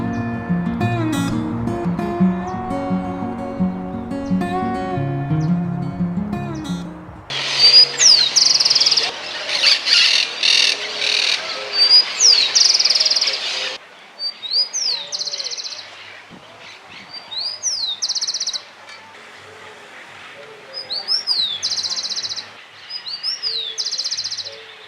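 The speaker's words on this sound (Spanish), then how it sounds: "Chingolo." A rufous-collared sparrow of central Argentina sings outdoors, repeated short clear whistled phrases ending in a trill, loud and close, separated by brief pauses; another bird and music precede it.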